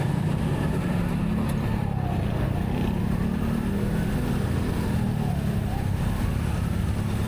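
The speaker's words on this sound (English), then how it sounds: "All in all, the traffic really isn't that bad today." Steady road traffic on EDSA in Metro Manila as heard from a bicycle, a continuous dense rumble of cars, motorcycles and trucks with engine drone and occasional revving, loud and unbroken throughout.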